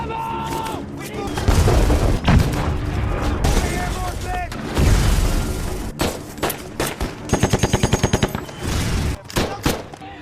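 Dense bursts of automatic gunfire and booming blasts ring out as mercenaries attack a camp in a war film, with rapid machine-gun rattles toward the end; a voice is heard at moments.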